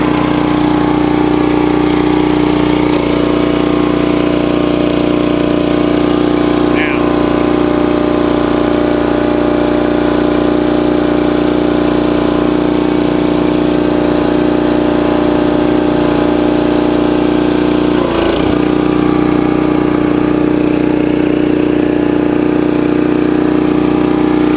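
A Westinghouse 3200psi gas pressure washer engine runs at a steady, loud drone for the whole stretch, with a constant hum and no pauses or speech.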